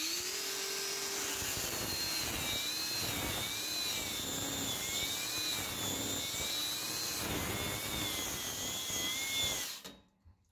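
A Parkside PWSAP 20-Li C3 cordless angle grinder grinds under moderate pressure, giving a loud, steady high-pitched whine that wavers as it bogs down, then stops abruptly near the end.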